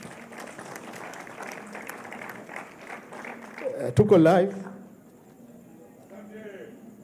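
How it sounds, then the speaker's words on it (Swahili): An audience at a panel discussion at the Zanzibar International Film Festival bursts into applause, a dense burst of clapping building over talk and peaking before quickly fading, with a voice continuing afterward. "tumpigie makofi mengi Bwana Imani"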